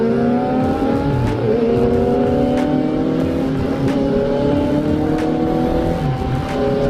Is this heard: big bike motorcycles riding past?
yes